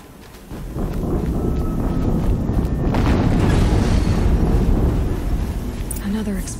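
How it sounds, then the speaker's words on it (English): A deep, rumbling explosion booms through a Horizon Zero Dawn play session, swelling into a long roar that lingers for several seconds, with a voice talking over it. "Another explosion."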